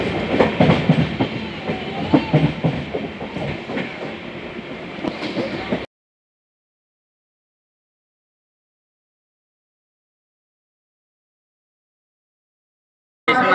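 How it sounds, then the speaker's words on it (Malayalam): A train, the Kerala Express, rolls into Palakkad Junction railway station with a loud, rumbling clatter of wheels and carriages, heard from on board. A voice talks over it before the sound cuts out to long silence. "നമ്മുടെ ട്രെയിൻ പാലക്കാട് ജംഗ്ഷൻ റെയിൽവേ സ്റ്റേഷനിൽ എത്തിയിരിക്കുകയാണ്"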